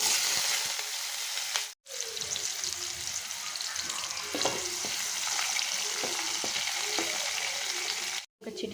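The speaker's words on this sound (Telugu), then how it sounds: "1 స్పూన్ ఆవాలు, ఒక ఆనియన్ని చిన్న పీసెస్గా కట్ చేసి వేసుకోండి." Mustard seeds and chopped onion frying in oil in a kadai, a steady close sizzle with spatula scrapes and stirring clatter, briefly cut off twice, with no talk.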